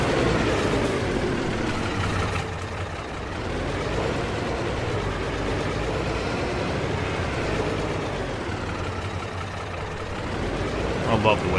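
A tractor engine idles in Farming Simulator 22, a steady low rumbling drone that holds evenly throughout at a moderate level.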